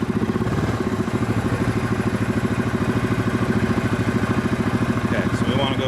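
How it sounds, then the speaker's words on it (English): A Yamaha Grizzly ATV engine runs close by with a steady, rapid mechanical chug, holding an even pulsing throb throughout rather than rising and falling. "Once in a while, you gotta rev it up."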